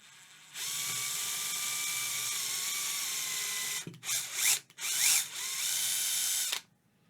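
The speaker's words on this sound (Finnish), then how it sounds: "Mä poraan nää tästä nyt sit saman yksin tein nää reijät." A power drill with a 2 mm bit bores holes for a Duesenberg Multibender on a Gretsch G5700 lap steel, a steady high whine for a few seconds, then stuttering bursts as it bites and stops.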